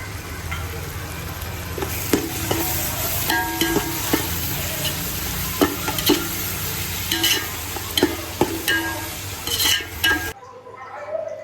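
Small green chillies sizzle in a pan while being stirred, with close crackling fry noise and repeated clinks and scrapes of a spoon against the metal, ending suddenly.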